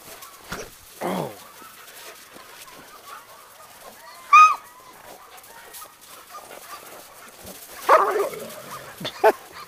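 A dog barks in scattered single yips and a couple of louder sharp barks, with quieter sounds between, at moderate distance and no talk over it.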